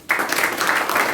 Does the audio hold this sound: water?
no